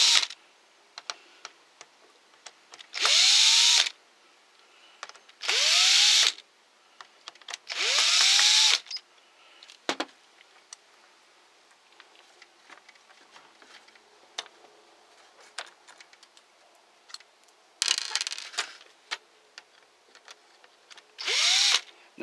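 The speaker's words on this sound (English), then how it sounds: "I'm just going to pop these 4 screws out of the top of this" A cordless power drill backs screws out of the top housing of a Kobalt 40V cordless hedge trimmer, with five loud whirring bursts of a second or so each, separated by quieter clicks and handling noise.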